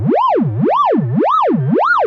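A bright synth riser tone sweeps up and down in pitch in a steady wobbling cycle, four smooth rises and falls, loud and continuous.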